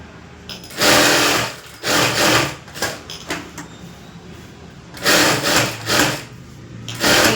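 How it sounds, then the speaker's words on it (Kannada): A sewing machine stitches lining onto a boat neck blouse in bursts of loud rapid whirring, pausing between runs with quieter handling rustles in the gaps. "ಇದನ್ನೆಲ್ಲ ನೀಟಾಗಿ ಸ್ಟಿಚಿಂಗ್ ಆಯಿತು"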